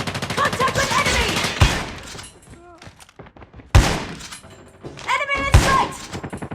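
Gunfire in a shooter video game, with short bursts of loud shots and thuds separated by quieter gaps and game sound effects, all close and punchy.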